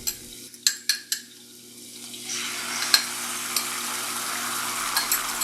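Beaten eggs frying in butter in a pan for chicken fried rice, a steady close sizzle rising after a few sharp clinks of utensil against the pan, with occasional soft scrapes.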